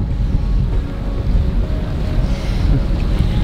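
A sailboat runs at about 6.5 knots in a steady, moderate breeze, heeled over roughly 20 degrees on a sunny day. Wind and rushing water make a loud, continuous roar close to the microphone, with no talk.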